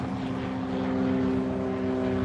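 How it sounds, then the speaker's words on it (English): An airplane passes near a railroad line in Stuart, giving a steady, loud propeller-like drone with a constant hum that holds for the whole stretch without fading, and no voices. "here comes another plane"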